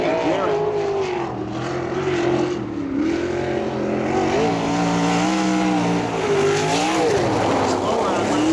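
A USAC non-wing race car on a qualifying lap at Ocala's Bubba Raceway Park roars continuously, its engine pitch rising and falling as it drives through the turns, while an announcer talks over it.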